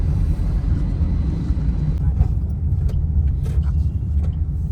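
A car drives along with a steady low engine and road rumble heard from inside, a few faint clicks and knocks breaking through in the second half.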